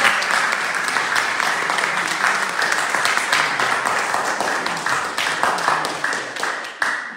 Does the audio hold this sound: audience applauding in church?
yes